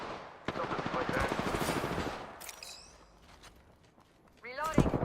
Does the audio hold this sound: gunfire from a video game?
yes